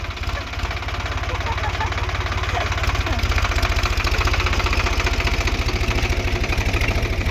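A farm tractor engine running nearby at a steady idle with a rapid, even low thumping pulse, loud and constant while people talk over it.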